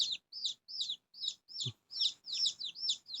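A rapid series of sharp, high clucking calls from a wild junglefowl hen, about ten evenly spaced notes, close and clear with no talking.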